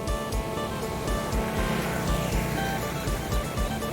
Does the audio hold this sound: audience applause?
no